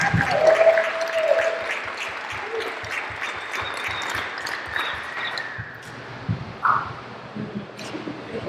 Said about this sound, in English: If we could just do another round of applause for Gina for the energy she brings